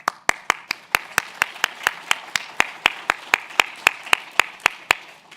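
Clapping at a records-management presentation, heard as a string of about twenty sharp, evenly spaced claps at a steady rhythm, close and distinct rather than blending into a crowd wash.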